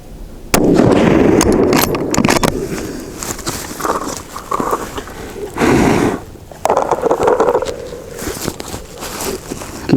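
Rifle shots with Sierra Palma 155g bullets during load development, several sharp loud cracks spaced a few seconds apart, each followed by short rumbling echoes and handling noise.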